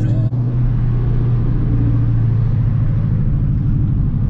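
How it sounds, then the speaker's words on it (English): A Ford Mustang S550 engine idles steadily and loudly up close, a deep continuous rumble with no talking, while the car runs almost out of fuel. "I really do not know how this car is still running"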